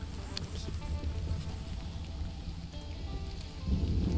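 Rain falls steadily in the Stranded: Alien Dawn video game during a New Year's Eve scene, a soft continuous patter with occasional brighter drops and a low bump near the end.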